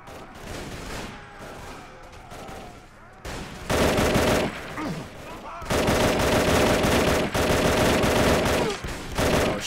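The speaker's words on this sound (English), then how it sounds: "let's switch back to my machine gun. And they're starting to shoot at me" Automatic machine gun fire in a Warband mod battle game, loud sustained bursts and rattling volleys with brief gaps, under some speech.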